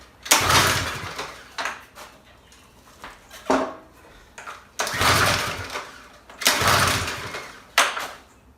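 A homemade garbage-can pressure washer's small engine being started, giving several loud, ragged bursts of sputtering noise separated by short pauses, up close, as it begins to catch.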